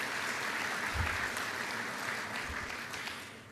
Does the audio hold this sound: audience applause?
yes